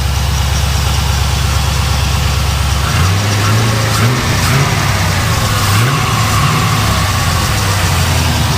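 A V8 engine in a Nissan 240SX turns over and settles into a steady, loud, rumbling idle that wavers slightly in pitch.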